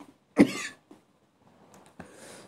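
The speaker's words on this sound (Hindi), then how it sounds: "अगर खांसी आ रही है" A single close, sharp cough rings out, followed by faint breathing and a softer throat sound in an otherwise quiet room.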